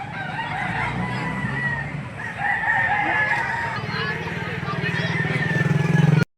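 Chickens and roosters at the Lipa livestock auction market, crowing and clucking steadily throughout amid a busy crowd, with auction talk and a low engine rumble underneath.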